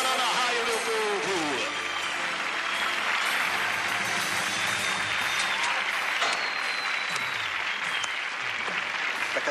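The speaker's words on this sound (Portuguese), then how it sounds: "Merece uma salva de palmas, uma salva de palmas para Ana Raio, meu povo!" Crowd applause at a Brazilian rodeo after a heavy bull ride: loud, sustained clapping and cheering from a large audience that fills the whole ten seconds, with an announcer's voice talking over it.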